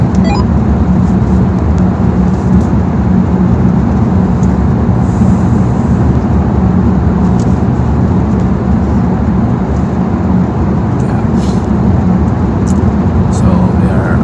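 Steady, loud road roar fills the cabin as a car drives through the long Lærdal road tunnel in Norway behind a truck in a convoy, an unbroken drone of tires and engine with no breaks.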